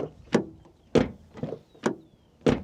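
Car door mechanism on a Dacia Duster 1.33 TCE 150 HP being operated, giving five separate sharp clunks and clicks of the handle and latch, spaced about half a second apart, close and clear with no voices.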